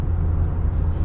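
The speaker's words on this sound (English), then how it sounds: "So I'm driving right now to the tire shop" Steady low road and engine drone inside a moving Ford F-250 Powerstroke diesel truck, a continuous cabin rumble with no voices.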